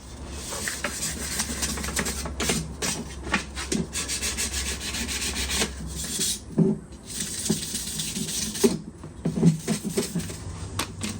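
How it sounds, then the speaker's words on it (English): Irregular abrasive rubbing strokes scuff the edges of a Country Coach motorhome window frame, close and busy, with short gaps and a few sharper scrapes between bursts. "Scuff the edges, get a little bit around the edges"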